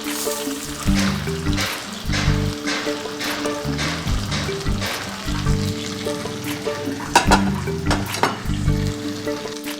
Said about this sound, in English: beautiful sizzling sound